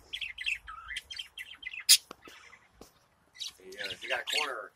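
Parakeets chirp and twitter in quick, close bursts, with a bright squawk partway through and a voice talking over the later chatter.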